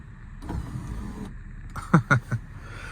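An electric motor whirs steadily inside a 2002 Lexus GS300, then a few short mechanical clunks as the sunroof shifts into a tilted position.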